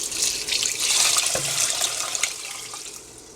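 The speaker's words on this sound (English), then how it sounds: "Add 4 1/2 cups of water." Water running steadily from a tap or jug into a large pot of lentils, a close, bright rushing pour that swells and then tapers off.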